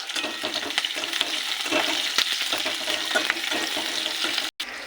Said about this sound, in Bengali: আর দেবো পেঁয়াজ কুচি দিয়ে ভেজে নেবো